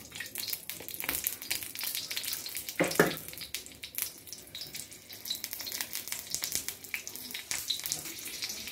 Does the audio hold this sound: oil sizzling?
yes